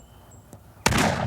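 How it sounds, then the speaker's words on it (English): A hunter's shotgun fires once at a wild turkey, a sudden loud blast breaking a quiet outdoor scene and ringing out with a sustained roar and echo. "And now the hunter takes his shot."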